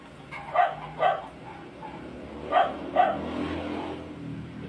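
Dogs barking at home in two pairs of sharp woofs, moderately near, over a background murmur of ambient noise.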